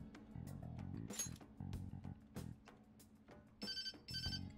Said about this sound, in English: there's the social services call I was waiting for